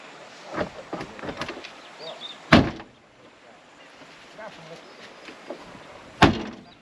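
A car front door is handled twice, closing with sharp slams a few seconds apart. Quieter clicks and rustles come first, then an open background.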